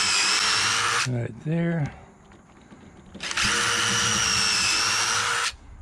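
A power drill drives a screw into wood in two sustained, loud whirring bursts, with someone briefly speaking between them.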